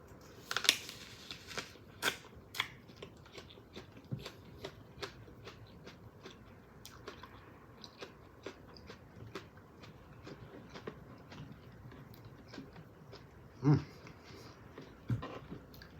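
Someone bites into the fat side of an apple and chews it up close, with a few sharp, crisp crunches spread out between quieter moist chewing and mouth noises.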